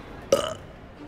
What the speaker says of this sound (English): The burping is pretty funny.